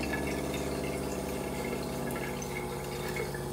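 Steady rush of water flushing through a Waterdrop D6 under-sink water filter system and its drain hose, a continuous even hiss with a faint pump hum, no voices.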